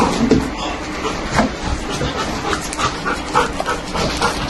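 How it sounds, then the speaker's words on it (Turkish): A police sniffer dog whimpers and pants during a raid for cannabis, with faint voices and background noise around it. The dog's sounds come in short, scattered bursts at moderate distance. "Köpeğin pozitif tepki vermişti komutanım."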